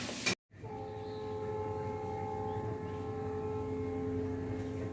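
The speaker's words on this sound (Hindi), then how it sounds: "ट्रेन की आवाज" A train passes in the early morning, a loud, steady droning hum with sustained horn-like tones that holds for several seconds after a brief sharp onset, with no voices.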